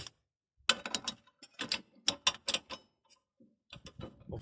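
Ratchet wrench clicking in short bursts while loosening bolts on a 2009 Toyota Yaris rear hub, with close, sharp, irregular ratcheting strokes separated by pauses and no talk.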